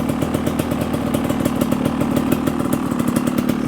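A Beta motorcycle engine idles close by with a loud, even, rapid exhaust putter that holds steady throughout.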